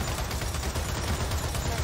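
Dense, continuous gunfire in the Gears of War 4 video game on Xbox One, a steady wall of rapid shots under battle noise, loud and close with no pauses.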